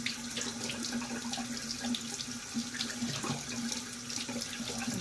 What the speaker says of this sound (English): I hope the water isn't too loud and that you can hear me.